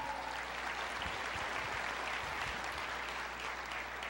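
A church congregation claps all together, a dense and continuous round of applause that stays loud and even from start to finish.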